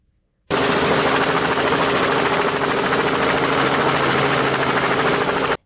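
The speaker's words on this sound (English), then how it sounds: "Helicopter." A steady, loud rotor-and-engine roar with a rapid pulsing chop starts abruptly and holds at constant volume until it cuts off.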